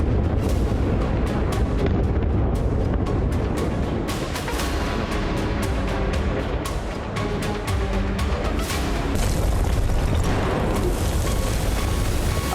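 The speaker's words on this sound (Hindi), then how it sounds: "एक के बाद एक कई ठिकानों पर बम गिराए गए" Bombs from Israeli and US airstrikes hitting sites in Karaj, Iran, heard as a continuous loud barrage of booms and blasts, one after another, rumbling without a break and with no talking.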